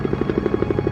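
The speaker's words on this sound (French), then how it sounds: "Guido Fernandez survole la zone du drame à bord d'un hélicoptère de la marine" A navy helicopter flies over a crash area, its rotor blades beating in a fast, even series of thumps about eleven per second, loud and steady with a low engine drone beneath.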